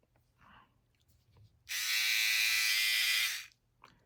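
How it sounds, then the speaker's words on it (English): A Philips OneBlade 360 electric shaver switches on and buzzes steadily at close range for under two seconds, then stops, with quiet handling noises before and after. "here's the shaver itself"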